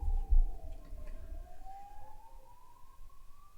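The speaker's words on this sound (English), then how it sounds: "I like how the ambulance can go on forever" A faint, distant siren wails with a slowly sliding pitch, dipping then rising, under low rumbling background noise.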